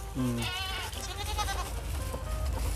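Goats bleating on a small goat farm, a couple of close, wavering bleats early on, followed by softer background animal calls and low farmyard noise.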